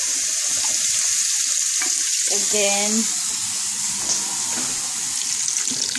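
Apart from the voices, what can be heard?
water filling a can from the tap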